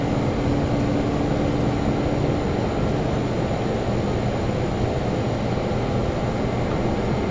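A Lear 35 jet's engines during taxi, a steady loud broadband roar with a faint high whine on top, continuous and unchanging throughout with no talk.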